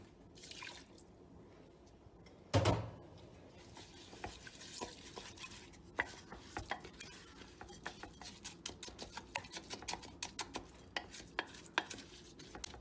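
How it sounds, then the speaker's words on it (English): A spoon stirs risotto with white wine in a crock pot, giving soft wet scrapes and small clinks, opened by one sharp knock, then a run of light, close, irregular taps and sloshes. "Give it a stir again."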